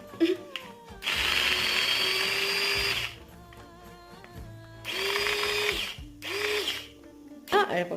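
An Agaro mini electric chopper with sharp blades whirs in three short high-pitched motor bursts of a couple of seconds each, close up, with clicks and handling between runs.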